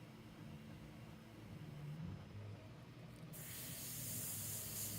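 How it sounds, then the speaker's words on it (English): An airbrush sprays paint gently to form bubbles on a miniature, a soft, steady hiss that swells slightly and brightens near the end, faint and close, alone. "and then we spray gently to form bubbles."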